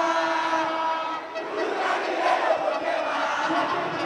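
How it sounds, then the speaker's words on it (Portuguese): Cruzeiro football fans sing together outside the Mineirão stadium, a dense, sustained roar of many voices in chorus filling the street, loud and continuous. "E agora todo mundo cantando."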